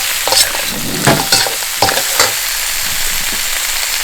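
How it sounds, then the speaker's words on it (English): Dungeness crab pieces fry in cooking oil in a wok, a steady close sizzle broken by a few sharp scrapes and clatters of stirring early on, then settling into an even hiss. "Put all the stuff back into the wok. Then I put some cooking oil in it."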